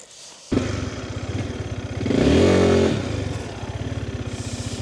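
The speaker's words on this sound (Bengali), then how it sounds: "মোটরসাইকেল" A motorcycle engine starts up and runs close by, its rhythmic putter rising into a louder rev around the middle before settling back to a steady idle-like chug, with no talk.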